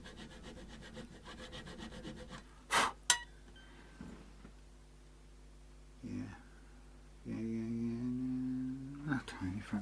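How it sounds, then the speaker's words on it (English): A nut file scrapes the G string slot in the nut of a Tokai Firebird guitar in a few short rasping bursts, with light clinks between strokes and a spoken voice in the background. "we're going to use our other nut file. We'll just tweak this G."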